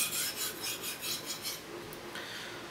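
A Japanese knife is sharpened on a stone in quick, rhythmic scraping strokes, about six close, fairly quiet rasping passes followed by a softer steady rub, with no speech.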